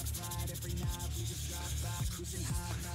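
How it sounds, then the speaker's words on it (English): A part of a Nerf blaster is hand-sanded in quick back-and-forth rubbing strokes, a close, rhythmic scratchy rasp with no voices over it. "I hate sanding."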